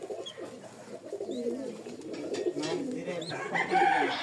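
Young pigeons coo softly in low, rolling murmurs close by, with a few higher chirps mixed in and quiet talk around them.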